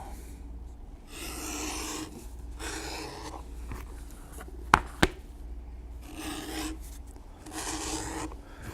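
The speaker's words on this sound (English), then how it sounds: "we will use our edge beveler, and we will bevel completely around top and bottom" An edge beveler rasps along the edges of leather saddle bag pieces in repeated scraping strokes, soft and close, each pass a few seconds long, with two sharp clicks in the middle.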